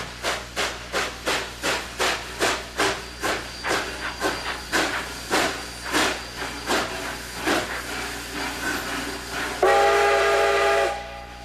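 Rhythmic steam chuffs from a locomotive running in snow pulse steadily, slowing a little, then a loud sustained steam whistle blasts near the end.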